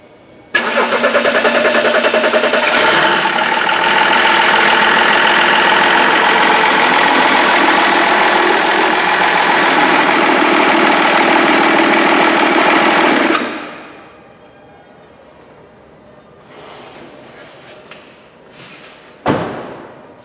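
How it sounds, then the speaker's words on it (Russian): A 2002 BMW 330d E46 with the M57 diesel engine, just reassembled after a timing chain replacement, cranks and catches, then runs with a loud, steady diesel clatter for about thirteen seconds before shutting off, followed by quieter clicks and a thump. "пойду я аккумулятор накину и попробуем завести"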